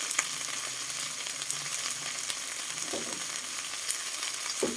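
Chinese kale stir-fried with crispy pork and oyster sauce sizzles steadily in a hot pan, with occasional clinks and scrapes of stirring over a constant frying hiss.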